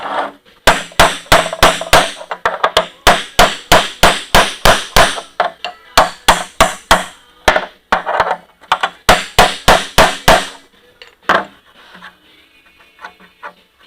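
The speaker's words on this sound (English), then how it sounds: "I've tried beating on it with a chisel, and it doesn't want to move." A hammer beats on a chisel against a stuck metal part of a combine harvester in a long, steady series of loud, sharp metallic blows at close range, then a few scattered strikes and a quiet tail.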